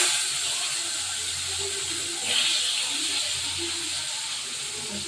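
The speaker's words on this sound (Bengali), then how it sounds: "এবার হালকা একটু জল দিলাম" Water poured into a pan of tilapia fish frying in oil, seasoned with salt and turmeric, gives a steady hiss and a brief louder sizzling surge partway through, with no talk.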